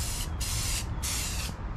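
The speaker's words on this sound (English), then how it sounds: "I'm just finishing up spraying this primer." Close hissing of a spray can laying primer onto a Nissan 350Z hatch with a molded duckbill spoiler, two sustained bursts separated by a short break.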